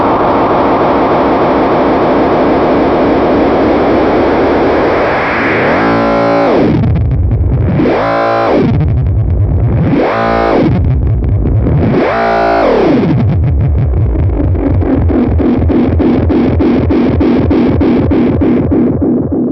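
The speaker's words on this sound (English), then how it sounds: "is basically the feedback loop going back and back through the pedal infinitely" A delay pedal turned fully up into infinite feedback self-oscillation, with no guitar being played: a loud, dense, distorted electronic drone that sweeps down and up in pitch several times before settling into a steady warbling tone.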